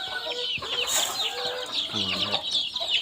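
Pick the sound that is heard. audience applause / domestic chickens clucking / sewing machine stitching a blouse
domestic chickens clucking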